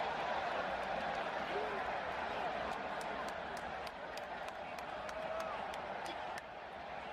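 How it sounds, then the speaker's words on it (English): Crowd at a USA vs Belgium soccer match gives a broad, steady wash of applause and murmuring noise throughout, with no single voice standing out. "Fans applaud as they reset"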